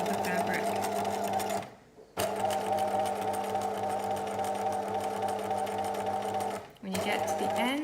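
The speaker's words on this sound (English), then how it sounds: "what I'm going to do is sew, but concentrate on having the edge of the fabric on the second line away from the needle" A sewing machine stitches along the edge of a fabric seam in a loud, close, steady mechanical whir, stopping briefly twice with short pauses before starting again.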